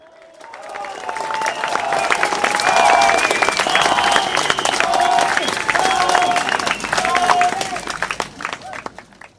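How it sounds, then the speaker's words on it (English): A crowd at a Progress Singapore Party election rally in Marymount claps and cheers, swelling from a quiet start to loud, dense applause with scattered shouts and voices mixed in, then tapering at the end. "Can we have one more round of applause? I'm going to ask you to clap more now and even louder."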